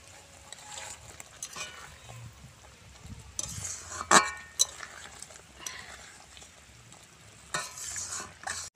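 Prawns stirred into a simmering malai curry gravy, with soft sizzling and scattered clinks of a spoon against the pan, quiet and close, with a few faint voice sounds.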